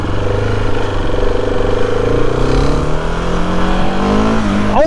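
Husqvarna 701 supermoto motorcycle engine droning loudly and steadily close by, with a rising tone near the end as it accelerates; no voices.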